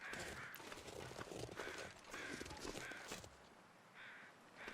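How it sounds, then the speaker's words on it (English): Crows caw repeatedly in the video game The Long Dark, a series of harsh calls over crunching footsteps and steady ambient wind, fairly near and spaced in uneven bursts. "I hear the crows going by."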